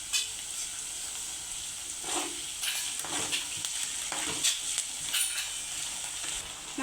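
Prawns frying in a pan with ginger garlic paste give off a steady, close hiss of sizzling oil, with occasional scraping as the mixture is stirred. No voices.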